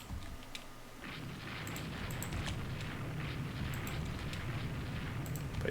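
Distant booming naval gunfire in the video game Rule the Waves 2 rumbles continuously during a small battle, heavy low thuds layered with faint crackling bursts.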